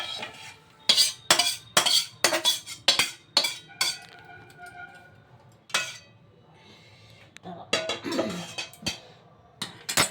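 Metal spoon scrapes and clinks against a pot and bowl as potato curry (aloo dum) is served out, a series of sharp close taps and clatters with brief gaps and some softer scraping in the middle.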